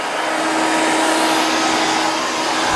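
A hair dryer on its cold setting blows a steady, loud, even rush of air through a haircut, continuous throughout with no talking.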